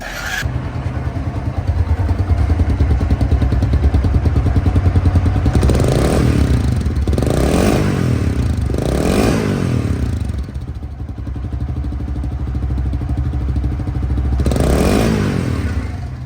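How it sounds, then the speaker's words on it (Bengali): A Dayang 80 motorcycle engine runs steadily after an electric self-start, idling close by with a throbbing beat and rising into four short revs over about sixteen seconds. "এখন সাউন্ড কোয়ালিটি শুনুন এটাও সেলফ স্টার্ট"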